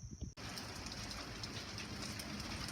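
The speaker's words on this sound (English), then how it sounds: "we've got some fat raindrops" Heavy rain with fat raindrops pours steadily around kickoff time on a Sunday, a dense, constant broadband hiss that starts abruptly after a brief quieter moment and continues alone without any talk.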